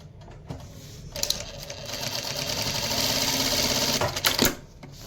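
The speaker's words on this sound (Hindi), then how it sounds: "अब ये हमारी मशीन धागा काट रही है और ना सुई से बाहर निकाल रही है हमारी" Single-needle DDL-7000A industrial sewing machine running with a steady mechanical whir that builds toward the middle, then sharp clicks and a brief burst as the thread trimmer cuts near the end, close and loud.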